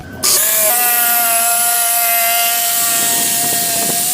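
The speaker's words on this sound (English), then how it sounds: "I'm going to cut this section with a jigsaw" A jigsaw cuts through a wooden block for a double-barrel grinding rail, its motor starting abruptly and then holding a loud, steady, close whine with a continuous buzzing saw rasp and no voices.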